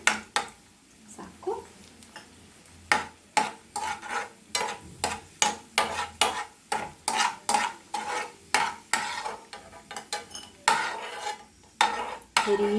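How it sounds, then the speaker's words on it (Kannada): Cashews and raisins frying in a pan for pineapple kesari bhath, soft sizzling under rapid repeated scraping and tapping of a spoon against the pan, close and busy. "ಗೋಡಂಬಿ ದ್ರಾಕ್ಷಿ ಫ್ರೈ ಆಗ್ತಿದೆ"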